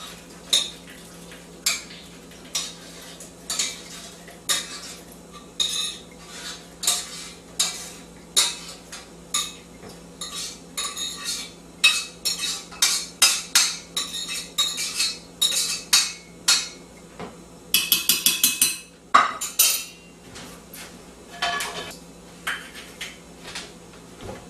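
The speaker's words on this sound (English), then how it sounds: "Throw that in the blender." Muscadine grape skins and juice are scooped into a blender, giving a long run of irregular, sharp clinks and knocks of a utensil against dishes and the jar, some in quick bursts, with no speech.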